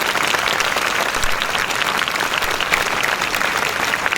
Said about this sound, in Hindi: एक बार जोरदार तालियों के साथ उनका स्वागत